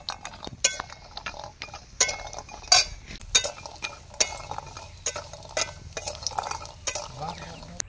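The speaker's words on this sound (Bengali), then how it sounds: "তো এবার আমরা শুক্তোর জন্য বড়িগুলো ভেজে নিচ্ছি।" Lentil dumplings (bori) fry in a wok for shukto, a low background sizzle broken by frequent clinks and scrapes of a spatula against metal, close and uneven.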